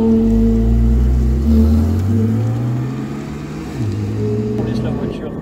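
A Porsche Cayman GT4 with about 420 horsepower and roughly 1500 kg accelerates on a race circuit. The engine note climbs through the revs, dips briefly at a gear change, then pulls again, loud and close, with some talk over it.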